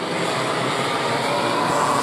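Racing karts in a junior light heat roar past on the track, a dense, continuous engine drone holding steady and loud throughout with no voices over it.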